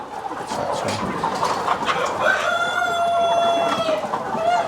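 Many desi chickens raised for meat cluck together in a loud, busy flock on a poultry farm, with a rooster crowing through the din partway through.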